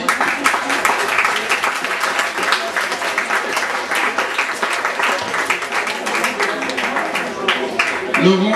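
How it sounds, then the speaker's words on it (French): Audience applause at a French literary award ceremony, the Futuriales 2013 prize announcement: steady, dense clapping filling the hall for several seconds, with a few voices and cheers mixed in. "On applaudit."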